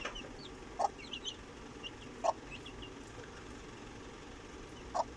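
Chickens clucking on a farm after being vaccinated, giving three short, distinct clucks spaced a second or two apart over a faint, steady background.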